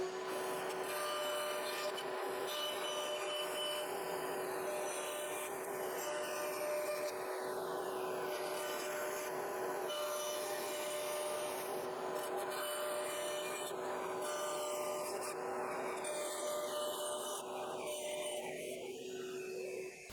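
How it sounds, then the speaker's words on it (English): A bandsaw cuts a primitive star shape from lath wood, a steady, continuous rasping whine with a constant motor tone holding for about twenty seconds, close and unbroken, with no talking. "then I will cut out the primitive star on my bandsaw"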